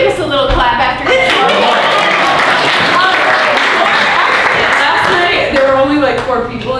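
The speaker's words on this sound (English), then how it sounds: "You can give us a little clap after this." Audience at a Saturday improv festival show in Miami breaks into sustained clapping and crowd noise, dense and steady throughout, with voices mixed in the applause.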